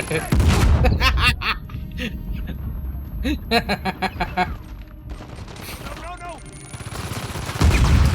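Weapon fire in the video game Uncharted 4, with a grenade launcher picked up amid the fight: repeated loud shots and blasts burst out in clusters, while a voice talks and exclaims over the gunfire throughout.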